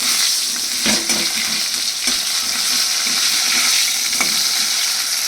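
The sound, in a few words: ridge gourd and turmeric frying and being stirred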